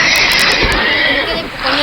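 A horse in the Minecraft video game gives a short, bright whinny, brief and synthetic-sounding, over a continuous game background.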